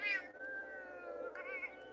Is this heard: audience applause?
no